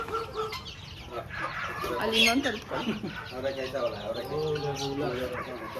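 Chickens cluck and call nearby, mixed with a person speaking briefly and some rustling movement.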